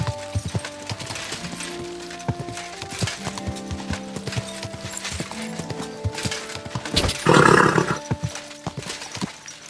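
Horse hooves clip-clop in a steady rhythm in the medieval game Kingdom Come: Deliverance II, close and clear under game ambience, with a louder burst of noise near the end.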